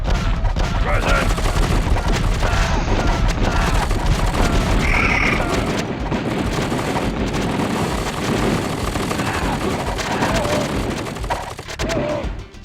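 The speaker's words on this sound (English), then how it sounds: "That's a sentry gun up here." Sentry gun fire in the real-time strategy game KKND 2 Krossfire, a busy, sustained rattle of shots and booms mixed with other battle noise across the whole stretch.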